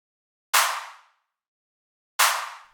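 Two sharp, dry clap sample hits without fuzz, spaced well apart, each with a quick bright attack and short decay into silence.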